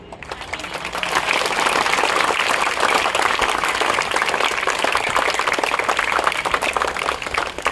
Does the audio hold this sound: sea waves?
no